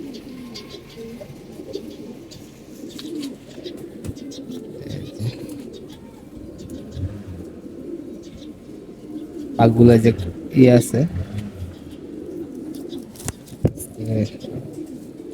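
Red-geared pigeons in a loft coo steadily as a low background murmur, while someone talks and louder bursts of movement and handling noise break in midway.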